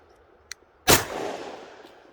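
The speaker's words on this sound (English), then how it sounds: "I think I'm shooting high." A single sharp pistol shot from a custom Sig P320 chambered in .357 SIG rings out loud and close, its report trailing off over a second or so, preceded by a faint small click.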